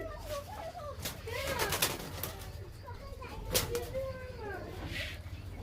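A female Teddy pigeon in a loft gives a few soft, rolling coos, close by, over low background rumble, with people talking nearby.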